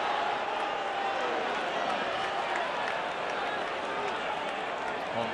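Home crowd at an MLB playoff game between Chicago and San Francisco, a dense, steady roar of fans reacting to a pitch off the plate, constant and fairly loud with no break.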